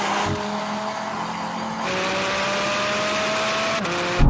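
Performance cars, including a BMW M2, Porsche GT4 RS, Mercedes A45, Audi RS3 and VW Golf R, launch in a drag race. A loud engine climbs in pitch, drops at a gear change and climbs again, with another shift near the end.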